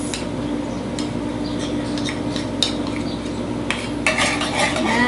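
Noodle sauce of soy sauce and honey being mixed together, with steady clinks and scrapes of a utensil against a bowl, close and continuous, with a few brighter taps near the end.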